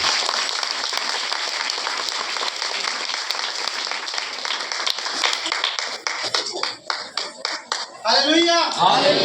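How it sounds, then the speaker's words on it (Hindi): Loud audience applause at a Hindi-language Christian church gathering, steady dense clapping that thins toward the end before a voice cuts in. "सब लोग जोरदार ताली बजा के स्वागत करें।"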